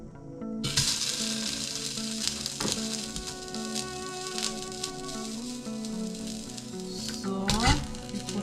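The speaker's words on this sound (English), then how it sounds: "And we only have to do is just stir fry the pork meat." Pork meat stir frying in hot oil in a pan, a steady close sizzle with scraping and stirring bursts, loud and continuous, with no talk.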